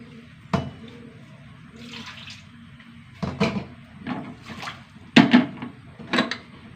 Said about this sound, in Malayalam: ഇനി വെള്ളം ഒഴിച്ചു കൊടുത്തു